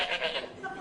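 A man imitates a goat's bleat, a single wavering nasal call lasting under a second, close and fairly loud.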